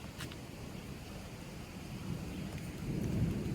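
Light rain falling outdoors in the countryside, a soft, steady hiss with a low rumble underneath that swells slightly toward the end.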